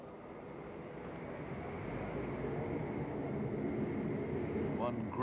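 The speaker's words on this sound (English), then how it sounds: "Captain John Cook brings Concorde in over the Swan Pub for a low pass." Concorde supersonic airliner making a low pass over the Swan Pub at the 1988 Farnborough International airshow, a broad jet roar that swells steadily over several seconds, with crowd noise or commentary beneath it.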